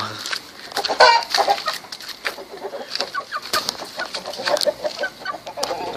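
Chickens cluck in short bursts at night as a monkey tries to catch them, amid rustling and scattered movement, fairly close, with a few sharper squawks.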